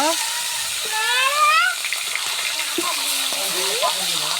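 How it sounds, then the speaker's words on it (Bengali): Steady sizzling of fish heads frying in hot oil, a continuous crackling hiss with a few brief higher tones over it. "এবার সুন্দর করে ভেজে নিব"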